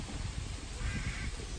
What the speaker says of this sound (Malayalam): ഇവിടെയും കുറെ കിളികളെ കാണാം.